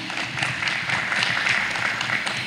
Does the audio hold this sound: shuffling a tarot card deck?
no